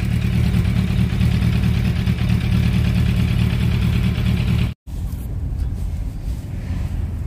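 A motorcycle engine runs steadily at a constant loud level on a ride, with a sharp brief cutout near the end before the droning resumes; no talking.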